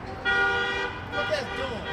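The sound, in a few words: car horn honking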